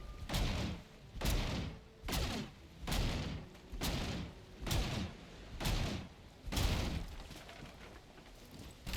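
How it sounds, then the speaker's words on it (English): A cart is hacked apart in the video game Valheim, with a run of about eight heavy, booming impact thuds landing at a steady rhythm roughly a second apart. They are loud and close, with no talking. "let's destroy the cart"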